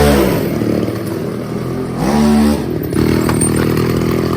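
A small petrol engine on a thermal kick scooter is started, catching with loud clattery sputtering, dropping briefly, then picking up again into a steady buzzing idle, close to the microphone.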